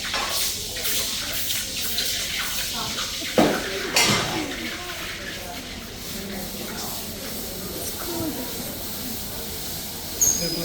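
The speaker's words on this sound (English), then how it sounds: "Boils the water, instant steam, all the heat into the air." Hot poured gold quenched in cold water during a gold pour demonstration in Ballarat, a sharp sizzle and steady hiss of steam with clinking metal, while someone talks over it.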